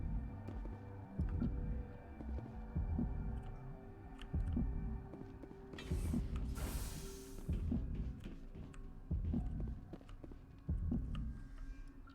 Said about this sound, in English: I don't like the heart beating.